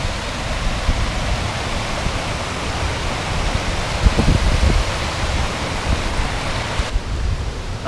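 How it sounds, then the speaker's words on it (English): A waterfall on a wild camp near Cadair Berwyn roars as a steady, broad rush of falling water, continuous and fairly close, with no voices. "That's enough of the waterfall, I think."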